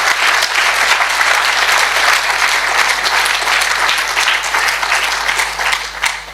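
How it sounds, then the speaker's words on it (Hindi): An audience at a Hanuman religious discourse bursts into continuous applause, a dense loud wash of many hands clapping together that holds steady for several seconds before easing slightly at the end. "हाँ, ताली बजाना तो बजा लो आप जरा, हाँ बजा लो।"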